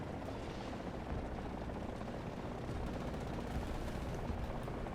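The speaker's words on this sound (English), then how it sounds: "There's a heli coming in." Helicopter approaching in the War Thunder tank game, a dense steady rotor and engine roar filling the scene with faint gunfire-like crackle mixed in, loud and continuous throughout.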